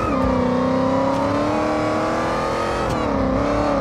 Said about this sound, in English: The Hellcat engine still runs.